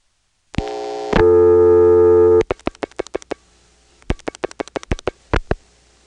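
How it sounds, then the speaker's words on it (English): A touch-tone phone on a 1970s senderized XY step-by-step exchange: a steady tone gives way to a run of about fifteen short, sharp hookswitch flash clicks in uneven bursts, loud and close, no talking. "I'll have to flash the number, of course, because this is a touch-tone phone"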